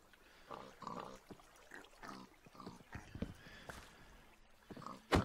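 Pig oinks from the Minecraft video game, several short grunting snorts scattered over a few seconds alongside other game sounds, moderately quiet.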